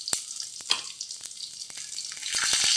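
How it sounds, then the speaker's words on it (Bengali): Tilapia fish sizzles and crackles in hot oil in a home kitchen, a steady frying hiss with scattered sharp pops. No one speaks. "এখন একে একে সব মাছ ভাজা হয়ে গেছে, আমি এখন নামিয়ে দেব।"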